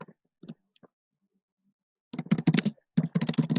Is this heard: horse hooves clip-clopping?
no